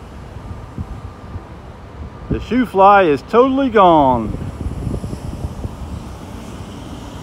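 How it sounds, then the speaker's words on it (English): Gusty wind buffets the microphone with low rumbling noise, while someone speaks briefly partway through. "It's getting windy out."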